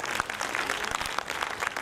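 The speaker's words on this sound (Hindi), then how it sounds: "एक बार तालियां बजा दीजिए सारे लोग" Audience at a poetry recital festival applauds, a fairly faint, steady crackle of many hands clapping at a distance.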